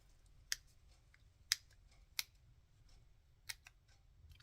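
Small snips cutting through card with five or six crisp, close clicks at irregular intervals, quiet and isolated against a faint background.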